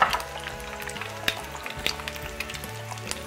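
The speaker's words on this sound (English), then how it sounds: "So now it is sizzling and we're going to add the eggs in." Eggs frying in a hot pan, giving a steady close sizzle with a few sharp crackles and a light clink near the start, no voices.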